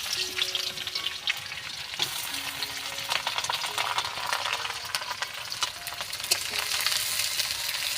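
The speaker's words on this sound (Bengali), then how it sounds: "এবার কুচি করা পেঁয়াজগুলো দিয়ে দিচ্ছি তেলে" Chopped onions frying in hot oil with bay leaf, dried chillies and whole cumin, a continuous close sizzle and crackle with light stirring clinks.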